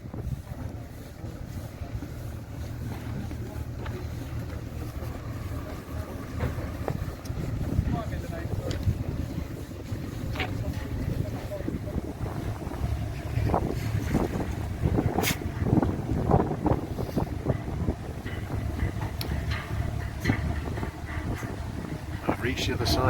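Steady boat engine rumble with wind buffeting the microphone and splashing water, continuous throughout, with scattered knocks and clatter.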